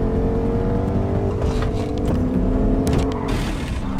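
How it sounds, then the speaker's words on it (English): A truck in the Fortnite video game drives past with a loud, continuous engine roar whose pitch rises and shifts as it goes by, filling the whole stretch with no voices on top. "It's a truck!"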